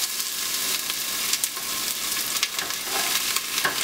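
Chopped carrots hitting hot olive oil in a pot, a steady crackling sizzle with scattered sharper pops, close and fairly quiet with no talk.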